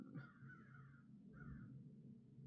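Two hoarse crow caws, one long and one shorter, sounding faint and distant over a low steady background hum.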